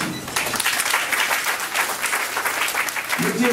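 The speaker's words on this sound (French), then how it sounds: "Applaudissez, s'il vous plaît" Audience applause at a hotel school ceremony in Port-de-Paix, a loud, sustained wash of many hands clapping, with a voice briefly audible at the start and again near the end.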